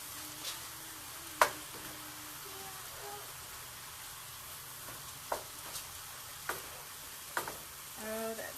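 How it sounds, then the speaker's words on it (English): Spinach wilting in a hot pan for a vegan Italian strata, a soft steady sizzle with occasional sharp clicks and taps of a utensil against the pan, fairly quiet throughout. "See, that spinach is just wilting down like it's nothing."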